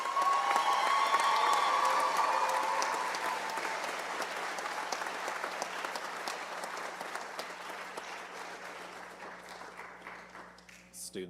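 An audience at a high school graduation ceremony gives a sustained round of applause for the graduating students, starting loud and dense, then thinning gradually and fading out over about eleven seconds.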